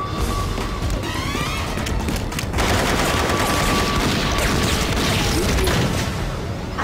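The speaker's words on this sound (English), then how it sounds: "The level climaxes with a giant gunfight as Bond makes his way to the submarine to free Zoe" Heavy gunfire from a large gunfight in the James Bond 007 Agent Under Fire video game, with dense continuous bursts and crashing impacts at a loud level throughout.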